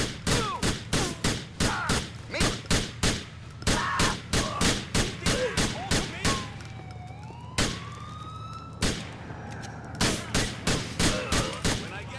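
Rapid bursts of gunfire from the video game GTA IV, loud and close with a siren-like wail rising and falling in the background, shots coming in tight repeated volleys with brief gaps.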